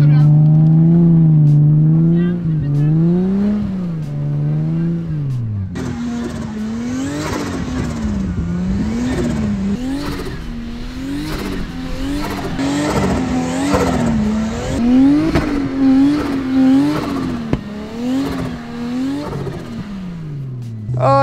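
A car drifts on snowy winter roads using the handbrake, its engine revving up and down in repeated rising and falling surges, with a sharper burst midway and a sustained loud run through the end.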